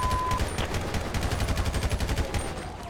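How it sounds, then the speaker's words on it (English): Rapid gunfire in GTA 5, a sustained stream of sharp automatic shots cracking in quick, steady succession, loud and close with no talking. "To be five shots fired from the upstairs bedroom."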